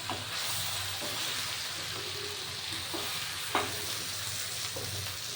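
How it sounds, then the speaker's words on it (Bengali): Vegetable chop masala is stirred in a frying pan, with a continuous soft sizzle and hiss and occasional scraping clicks of the spoon against the pan. "এবার আমি একটু নেড়ে দিচ্ছি হ্যাঁ"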